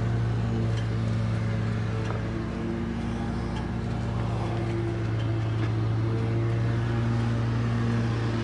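2014 Porsche Cayenne S with a 4.8-litre V8 making about 400 hp, idling with the hood open, a steady low hum heard close and unbroken.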